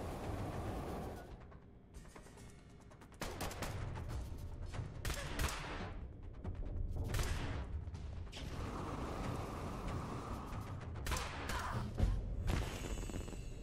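Gunfire in the Fallout Shelter video game comes as bursts of sharp shots scattered through the clip, some clustered in quick volleys, mixed with mechanical clatter at moderate loudness and no talk.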